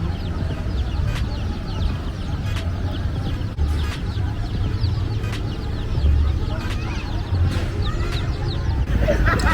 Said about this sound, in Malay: Comelnya kita tengok ada ayam.